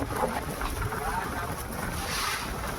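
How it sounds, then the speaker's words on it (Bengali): River waves splash and wash continuously against a boat in the Sundarbans, a broad steady rush of water with wind noise over it. "এই যে এখানে ঢেউ মারছে, এই যে ঢেউটা দেখো"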